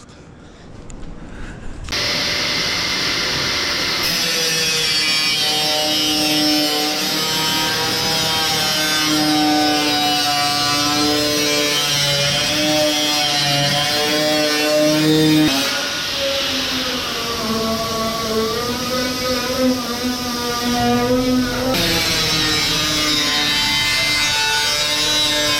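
Steel side panels of a Chevy truck bed are cut with a power tool: a loud, continuous, whining cutting tone that holds for over twenty seconds, its pitch shifting slightly as the blade works through the metal.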